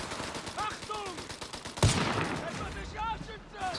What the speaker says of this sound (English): Very audible firing sound.